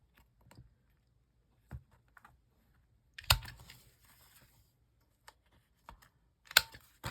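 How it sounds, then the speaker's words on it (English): Scissors trimming the corners of a paper craft card, a few sparse, crisp snips close by with quiet pauses between them and no voices. "So I'm just going to take and I'm going to trim these corners."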